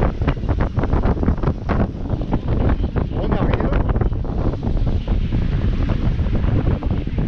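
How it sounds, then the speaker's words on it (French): Strong wind roars and rough sea crashes around a sailboat off Calvi, Corsica, a dense continuous rush with buffeting gusts on the microphone throughout, and a voice briefly speaks over it. "La mer est forte et le vent pousse bien."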